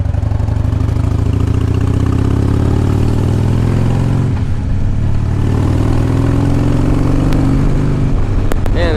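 A 2005 Harley-Davidson Heritage Softail motorcycle engine runs with a loud, rumbling, lumpy beat, close by. The beat dips briefly midway before settling back, and a few faint clicks come near the end.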